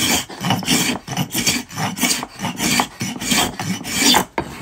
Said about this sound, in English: This is a scraper plane, and absolutely worth getting.